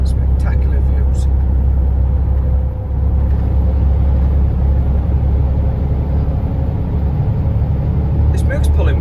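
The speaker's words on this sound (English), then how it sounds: "This Merc's pulling well too." Mercedes truck engine pulling a loaded trailer on a long-distance European motorsport haul, a steady loud diesel drone and road rumble throughout, with someone talking over it.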